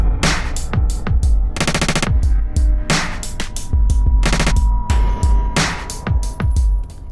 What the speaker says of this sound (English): you're going to hear glitches on it